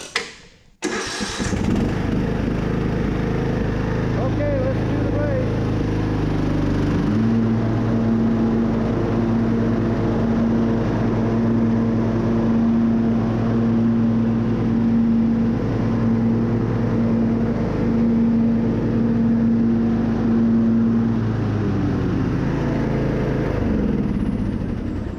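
An MTD riding mower's engine cranks over with a sharp start, then settles into a steady, loud running drone with a humming mechanical whine from the deck drive belt, lasting about twenty seconds before easing off.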